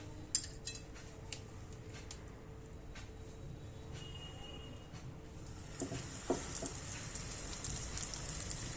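Potato tacos fry on a tawa with a faint, continuous crackling sizzle and scattered small pops.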